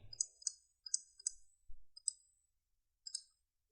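A computer mouse clicked while editing in Photoshop, giving a series of sharp, close clicks in quick pairs and singles with short silent gaps, crisp and isolated.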